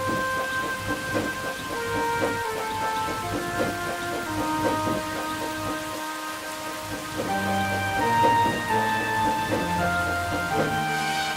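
Steady heavy rain pours down with a constant hiss. A low sustained musical score plays alongside it and carries right through.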